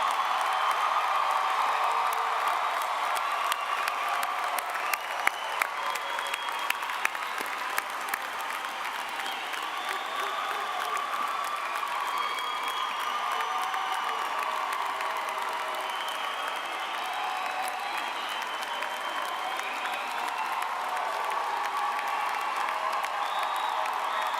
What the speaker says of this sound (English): Let's give a round of applause for the class of 2018.